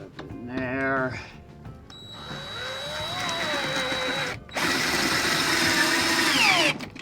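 A drill punching through aluminum diamond plate on an ambulance RV conversion, a rising high whine that cuts out and restarts louder, heard close, with a brief voice-like sound near the start.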